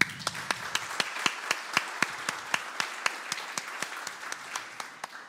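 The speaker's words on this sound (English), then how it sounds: "I'd like to give you all a round of applause" Steady, rhythmic clapping at a poetry gala, a few hands beating an even quick tempo for several seconds at moderate volume.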